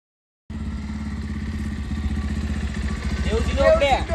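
A motorcycle engine starts suddenly and runs with a steady, close, low throbbing idle that grows slightly louder near the end, with faint background voices.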